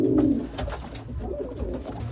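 Pet pigeons cooing up close in a loft, a low throaty burble that rises and repeats several times under a little background noise, with no one talking.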